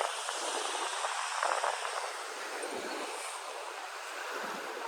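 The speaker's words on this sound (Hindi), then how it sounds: "लहरें इतनी भयंकर है ना कि यहाँ तक आ रही है पूरा प्रॉपर।" Ocean waves surge against the shore at Dhanushkodi, a continuous loud wash of surf with rising and falling swells and no voices.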